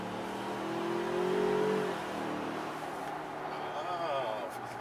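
A 2019 Ford Ranger 4x4 pickup in sport mode accelerates hard. A moderate engine drone swells and rises for a couple of seconds, then settles to a steady hum, while people talk inside the cab.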